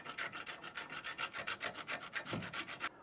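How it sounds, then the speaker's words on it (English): A curved file rasps corrosion from inside an aluminum steering knuckle on a 2005-2007 Ford Five Hundred during a wheel bearing and hub replacement. The strokes are rapid and rhythmic, close and scratchy, continuing steadily for about three seconds. "you can use a curved file"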